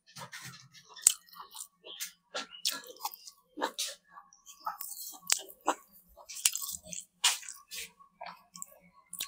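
Close, wet chewing and crunching of hot rice eaten with fried ridge gourd, steady irregular bites with soft smacks and small clicks, a person eating alone at a meal, no talk.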